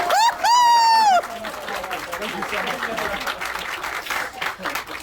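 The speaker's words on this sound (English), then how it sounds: "Give these two a big round of applause!" Audience applause and some cheering at a magic show during the MFRF 2022 fair, starting under a loud voice briefly calling out, then continuing as a dense, even patter of many clapping hands.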